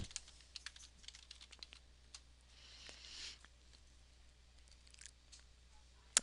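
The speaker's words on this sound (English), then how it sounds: "I simply type in animal rights. Oops, it's better if I spell it right." Fingers typing a search into a computer keyboard, quiet irregular clicking keystrokes in short bursts with brief pauses, fairly faint and close.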